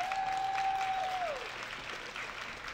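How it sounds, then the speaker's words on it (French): Audience applause at a college stage show, a dense sustained clapping from a crowd that tapers off, with a held electronic tone sliding down in the first second. "Alors, ça mérite beaucoup plus d'applaudissements que ça"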